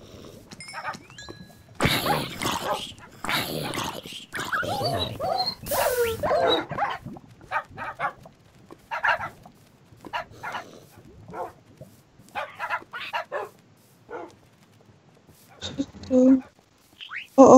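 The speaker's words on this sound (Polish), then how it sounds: "psy idą za tobą" Dogs barking in a zombie video game, a series of sharp barks and yelps scattered across the clip in bursts, with a player talking over and between them and some quieter gaps.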